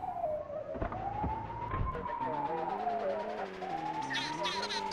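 A police car siren in the PS1 video game Grand Theft Auto wails in long rising and falling sweeps, under a car engine and talking voices.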